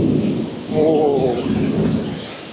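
A loud roll of thunder in Orlando, Florida rumbles low and long through steady rain, swelling and fading over a couple of seconds.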